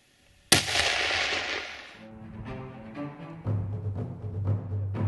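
A single loud hunting rifle shot cracks sharply, then rolls away in a long echoing boom, followed by faint clanks and handling noises as the rifle is sighted in before an antelope hunt in Wyoming.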